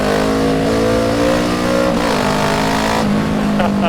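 A Kawasaki Z650 motorcycle with an Ixil exhaust runs steadily and loudly up close, its engine note holding a constant droning pitch with slight shifts throughout.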